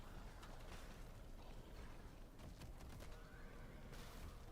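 A horse neighs in Diablo, a faint whinny set against a dense, steady wash of game noise and ambience with no talking.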